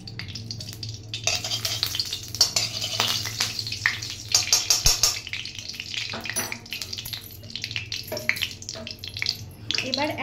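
Ghee goes into hot oil in a pan, after nuts were fried in it, for a quinoa pulao. A loud, steady sizzling hiss runs throughout, with occasional utensil clinks and a faint voice underneath.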